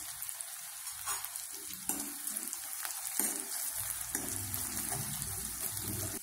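Ground coconut and garlic fry in a pan for a Marathi dal vange, giving a steady sizzle with bursts of stirring. It stays close and continuous, with no talking.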